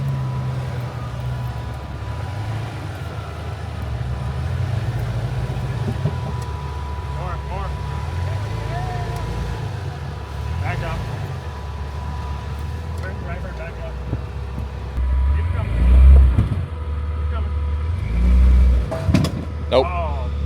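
An off-road vehicle's engine rumbles steadily as it crawls through Buster Canyon over rocks, with low revs swelling louder near the end while people talk over it.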